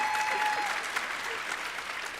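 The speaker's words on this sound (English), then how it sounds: "Tayton, oh yeah, let's clap for Tayton." A graduation audience applauds in a steady, dense wash of clapping that fills the whole moment, loud and close, with faint crowd murmur underneath.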